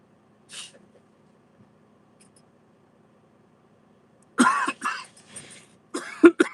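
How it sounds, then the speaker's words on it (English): A person's morning cough, one short hack early on followed after a quiet stretch by a cluster of harsh, close coughs and throat-clearing bursts indoors. "excuse the morning cough"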